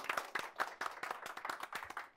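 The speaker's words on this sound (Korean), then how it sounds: "큰 박수 부탁드립니다." A crowd applauding an author at a book forum event, with steady, fairly loud hand clapping throughout and no voices.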